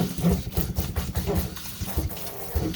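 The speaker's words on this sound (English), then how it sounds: "I'm just gonna put a little bit of water, not too much, just so it could get mixed with the soap" Running water splashes steadily near the microphone as a little is added to soap and toothpaste for cleaning white cloth Yeezy Zebra shoes, a continuous close trickle with small rhythmic splashes throughout.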